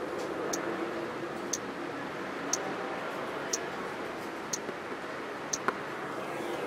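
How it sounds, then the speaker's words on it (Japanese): A Timex Weekender Central Park wristwatch held close to the microphone ticks once per second, each second-hand tick a small, distinct click over steady background hiss. "結構割と秒針の音はします"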